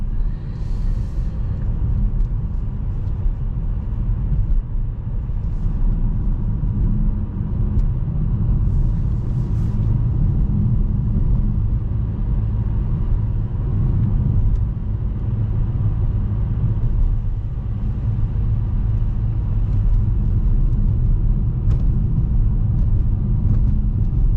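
A 2023 Renault Captur E-Tech 145 full hybrid drives at night, heard from inside as a steady low road and engine rumble that holds evenly throughout with no voices.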